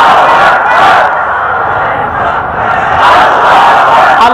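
A large crowd at an Islamic sermon gathering roars the takbir slogan in unison, a loud sustained collective shout that swells and dips over a few seconds.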